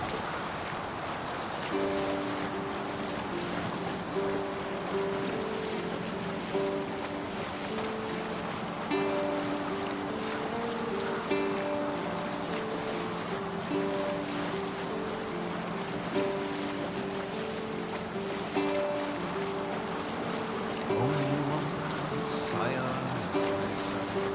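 A Viking longship is rowed and sailed across the open sea in Assassin's Creed Valhalla, with a steady wash of waves and wind under a droning, tuneful crew chant, and voices carrying over the water.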